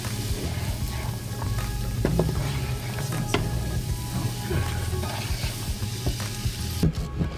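Beans simmering in a covered pot while bean dip is made, a soft constant bubbling and sizzling hiss in a home kitchen, punctuated by a few sharp clinks and knocks of utensils, with no voices.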